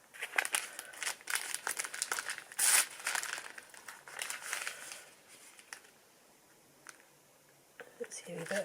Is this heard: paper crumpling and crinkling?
yes